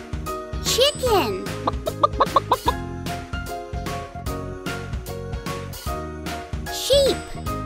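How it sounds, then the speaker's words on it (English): Cartoon chicken clucks in a children's animal puzzle game, a burst of short rhythmic clucks and squawks near the start and another call near the end, over a bouncy background melody. "Chicken!"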